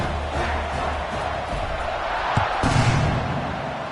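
Football video game stadium crowd cheering after a scoring drive before a kickoff, a loud continuous roar with a swell near the end.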